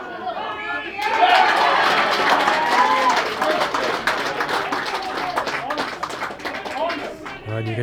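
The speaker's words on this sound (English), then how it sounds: "you can tell from the reaction of the home crowd" Home crowd at a Crediton versus St Austell rugby match roaring and applauding in a broad, sustained wash of noise with scattered claps, under a commentator's voice.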